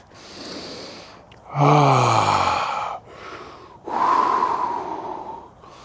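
A person breathing heavily during a gentle beginner workout, with a loud snort-like exhale followed by slower audible breaths, close and alone with no talking.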